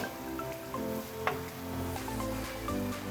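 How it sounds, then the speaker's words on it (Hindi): Vegetables for veggie macaroni frying in a pan, a steady close sizzle with soft crackles and occasional stirring clinks, no voices. "ये सब्ज़ी हमारी भुनाई की तरफ जा रही है।"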